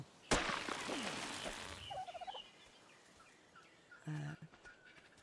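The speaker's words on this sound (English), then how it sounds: "Little chirping noises, the dodo." A dodo in the ARK Survival video game gives a short series of gobbling, chirping bird calls, fairly quiet and mid-distance, set among sharp in-game impacts and rustling effects with no talk.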